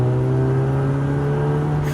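An Audi TT of nearly 300 horsepower pulls hard in fourth gear from about 3100 rpm, its engine note a loud, steady rising drone heard from inside the car for two seconds with no talk.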